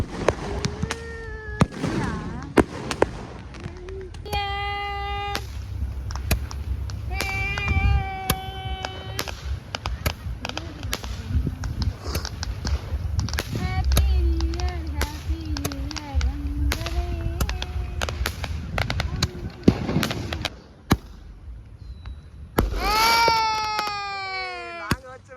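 Firecrackers and fireworks go off at a New Year celebration in a Thai village, sharp bangs and crackling bursts scattered throughout with whistling rockets, while people talk and call out nearby.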